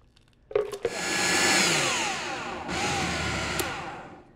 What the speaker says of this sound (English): I'm going to ladle half of the soup into my Vitamix